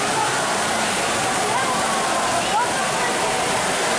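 Wave pool water at the indoor water park Aqualibi rushes in a steady, broad wash, constant and fairly loud, with faint voices of the crowd underneath.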